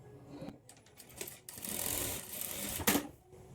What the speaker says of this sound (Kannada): ಡಬಲ್ ಸ್ಟಿಚ್ ಹಾಕ್ಕೊಳ್ಳಿ.